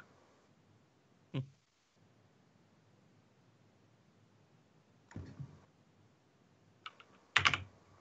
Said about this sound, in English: The keyboard again.